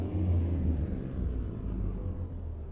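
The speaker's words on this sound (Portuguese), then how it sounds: "Mas é bom que vocês escutam o som do caminhão." A Volvo FH 440 truck engine in Euro Truck Simulator gives a steady, loud low rumble that holds throughout with no talk over it.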